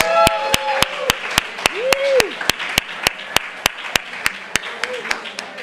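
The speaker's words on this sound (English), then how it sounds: "Let's give him a round of applause." Applause from an audience at an Alcoholics Anonymous speaker meeting, steady clapping with sharp claps standing out, filling the room; a few voices rise faintly underneath.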